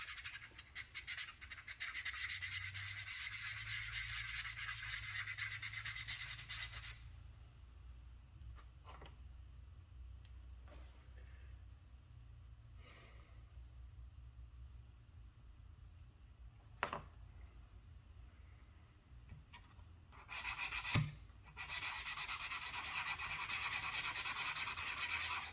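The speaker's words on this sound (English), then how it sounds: "Now I'm going to sand down the magnets so that the contact cement will actually have something to stick to." Magnets being sanded by hand with sandpaper, a steady gritty rubbing at close range for several seconds, then quieter handling with a few knocks, then resumed rubbing at the end.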